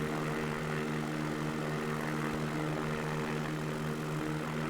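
Propeller plane engine in a flight simulator game, a steady droning hum with a constant pitch that holds loud and unbroken the whole time, with no voices.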